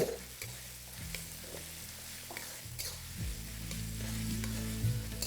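Sliced onion and chopped garlic sizzle loudly in a pan over medium-high flame, with repeated scraping stirs and utensil knocks over a continuous frying hiss; no talking.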